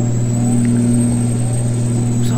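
A truck engine drones steadily in Euro Truck Simulator 2, with a loud, even hum that holds throughout without clear rises or pauses.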